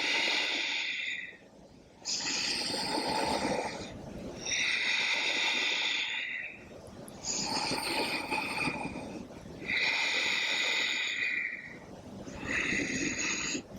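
Deep rhythmic breaths during a yoga session, long noisy inhales and exhales cycling roughly every two to three seconds, close and steady with no talking.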